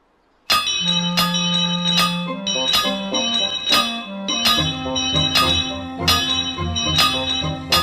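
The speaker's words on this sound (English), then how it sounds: "He had heard the banging and Toby's bell ringing." A toy Thomas & Friends train bell clangs loudly and repeatedly in a steady rhythm, each ring lingering, with low musical tones underneath.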